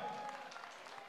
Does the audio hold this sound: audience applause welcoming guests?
yes